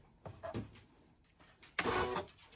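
Sewing machine stitching soft fabric scraps for a glasses case: a short whirring burst, a pause, then a second, louder mechanical run, close and otherwise quiet.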